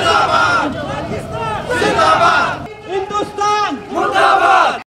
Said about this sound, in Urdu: ریلی میں پاک فوج اور پاکستان زندہ باد کے نعرے گونجتے رہے۔